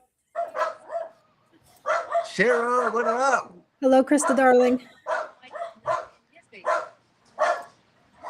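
A dog barks excitedly at a delivery person arriving at the door, loud nearby bursts of repeated barks and yips mixed with whines, while several people talk and greet each other over it.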